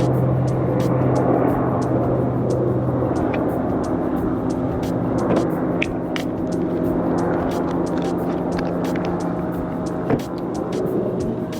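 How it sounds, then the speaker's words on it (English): A helicopter drones overhead, a continuous loud engine rumble with rhythmic rotor chopping that holds steady before slowly fading. "Cool, that helicopter has passed."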